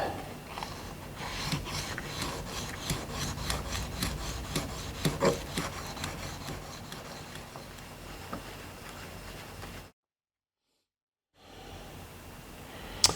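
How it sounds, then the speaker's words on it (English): Shears are honed against an oiled sharpening stone, giving steady repeated rasping strokes at a moderate level for about ten seconds before a sudden gap of silence and a faint return. "So let's get these two sharpened on this stone."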